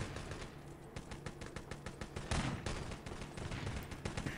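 Rapid rifle gunfire in a team-based shooter video game match, dense bursts of repeated shots cracking close and loud with a heavier blast partway through, no talking.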